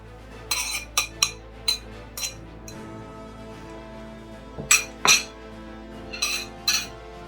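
Bright clinks of utensils and ingredients knocking against a mixing bowl as sugar and butter go in for a cake, a dozen or so short sharp taps in irregular bursts with quiet gaps between.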